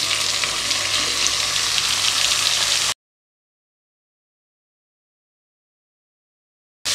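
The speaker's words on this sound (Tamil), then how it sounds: "காய்கறி கொஞ்சம் வதங்கட்டும்." Carrot, potato and mango pieces sauté in a hot pan with a dense, steady sizzle that fills the first three seconds, cuts to silence, then briefly returns at the very end.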